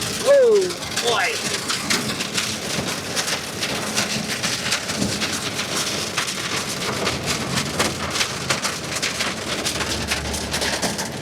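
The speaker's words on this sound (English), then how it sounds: "Oh yeah, it's hailing." Dense, steady clattering of hail pelting a hard surface, with a brief whistle at the start and low rumbling beneath.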